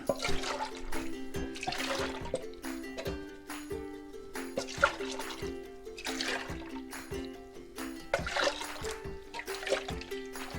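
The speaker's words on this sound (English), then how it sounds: "we're going to go back and forth to get all that sauce out of the can" Water sloshes back and forth inside a can to rinse out tomato sauce for cooking chicken feet, a close, repeated liquid swishing with trickles and splashes in a rocking rhythm.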